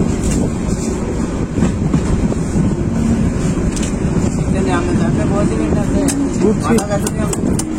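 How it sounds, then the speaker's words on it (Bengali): A Sagarika commuter local train on the Chandpur to Chittagong line pulls into Fazilpur railway station, with a loud, steady rumble of wheels and carriages plus wind buffeting. People talk over the noise throughout. "আমরা এখন ফাজিলপুর রেলওয়ে স্টেশন এসে পৌঁছলাম। এখানে ট্রেন থামবে।"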